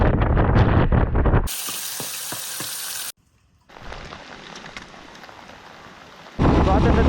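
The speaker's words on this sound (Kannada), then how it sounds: "ಮಳೆ ಬರ್ತಾ ಒಂದು ಜೋರಾಗಿ, ಮಳೆ ಹೆವಿ ಮಳೆ" Heavy rain at a monsoon camping spot at Bisle Ghat, Karnataka, a dense loud hiss that cuts in and out across the clip, with a brief near-silent gap in the middle.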